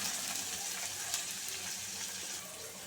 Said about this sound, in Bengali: এবার পেঁয়াজগুলোকে খুব ভালো করে লাল করে নেব, সুন্দর করে ভেজে লাল করে নেব।